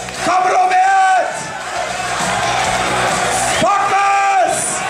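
Crowd cheering, whooping and shouting at a superheavyweight stone-lifting contest at Lechfeld, with loud amplified voices calling over a dense, continuous roar of spectators.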